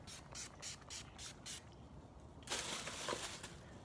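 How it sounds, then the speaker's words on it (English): A quiet, soft hiss of Urban Decay makeup setting spray misted over a made-up face, a brief close spritz standing alone after a few faint rustles. "I'm about to put this Urban Decay setting spray"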